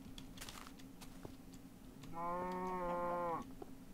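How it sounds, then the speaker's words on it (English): A cow in the Minecraft video game lets out a single drawn-out moo, clear and fairly loud against a quiet background with faint clicks, with no talking. "Hey, there's another cow."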